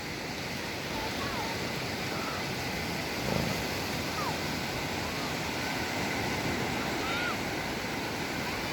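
Steady, broad wash of ocean surf rolling continuously at Bucana beach, Nasugbu, Batangas, Philippines, with a soft rumble underneath and no clear break between waves.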